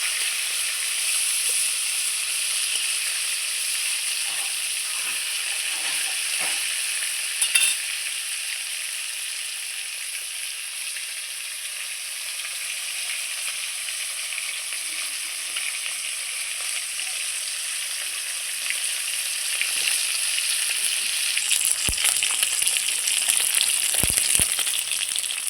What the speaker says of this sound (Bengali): আমি মাছটাকে খুব সুন্দর লাল লাল করে ভেজে নিয়েছি